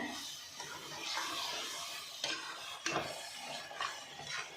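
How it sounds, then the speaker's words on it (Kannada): Masala frying in oil while it is stirred, a close, soft sizzle under scraping strokes of a spoon against the pan, with a few sharper clinks and no talk. "ಈಗ ಇದೆಲ್ಲ ಸ್ವಲ್ಪ ಚೆನ್ನಾಗಿ ಸ್ವಲ್ಪ ಎಣ್ಣೆ ಬಿಡಬೇಕು ಮೇಲೆಲ್ಲ ಅಲ್ಲಿ ತನಕ ಫ್ರೈ ಮಾಡ್ಕೊಳ್ಳೋಣ"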